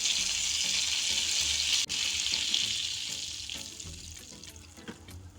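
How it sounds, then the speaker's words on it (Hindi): About 200 grams of paneer, cut into large cubes, fry in oil with a bright, hissing sizzle that starts strong, dips briefly, then slowly fades over a few seconds. "अब इसमें हम पनीर डाल देंगे।"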